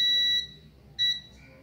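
Two high-pitched electronic beeps from a multimeter in continuity mode while probing an HP 15 bs15 laptop motherboard for a short: a long tone, a pause, then a shorter one, loud and close with no talk.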